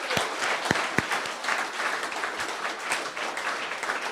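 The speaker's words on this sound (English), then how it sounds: "Big round of applause for Simon, everybody." An indoor audience at a creator show event gives a steady round of applause, with dense clapping throughout and a few sharper close claps.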